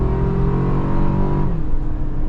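A 2026 Toyota 4Runner TRD Sport's turbo engine accelerates hard with the pedal floored, a loud, steady, close rising drone with shifting tonal harmonics and no speech.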